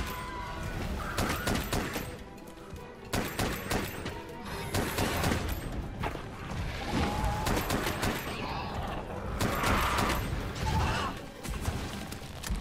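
Bow gun shots and weapon mechanisms from the video game Monster Hunter: World, dense and continuous with repeated sharp bursts over game effects throughout.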